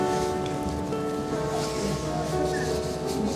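Steady rain falls continuously at a home during several days of wet weather, a dense even hiss of drops on surfaces that stays loud and close throughout with no clear talking.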